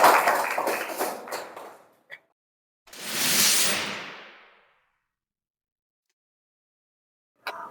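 Classroom students clap their hands together in a short burst of applause during a lesson, fading out quickly, with brief talk and noise before it.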